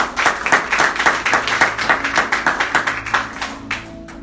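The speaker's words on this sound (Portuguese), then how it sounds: "Você pode dar uma salva de palmas ao Senhor?" A small church congregation claps steadily, with a dense burst of applause that thins out toward the end.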